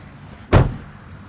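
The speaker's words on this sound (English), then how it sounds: "Trunk closes with vigor." Trunk lid of a 2018 Acura TLX A-Spec SH-AWD slamming shut, a single firm, close thud with a short decay in a quiet setting.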